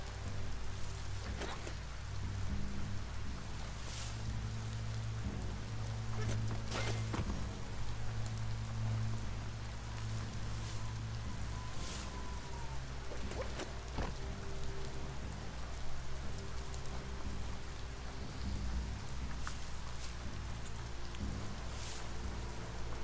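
Steady rain falls in the video game Biomutant, a dense, continuous hiss of drops on surfaces lasting throughout, with scattered sharper spatters and a low rumbling bed underneath.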